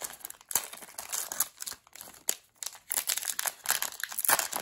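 Foil wrapper of a Chinese Pokémon booster pack being torn and crinkled open by hand, a run of close, bursty crackling rustles with brief pauses.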